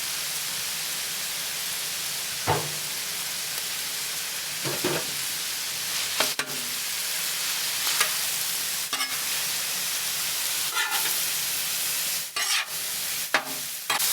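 Canned green chiles sizzle steadily on a Blackstone griddle, with a constant frying hiss broken by repeated short scraping stirs of a spatula, up close.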